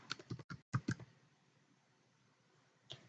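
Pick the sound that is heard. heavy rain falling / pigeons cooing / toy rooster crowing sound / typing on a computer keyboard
typing on a computer keyboard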